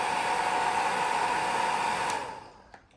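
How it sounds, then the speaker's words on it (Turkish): A vacuum cleaner's steady whooshing motor hum, loud and close, runs continuously and then winds down to silence near the end. "bak elektrikli süpürge daha hani çok ses yapıyor"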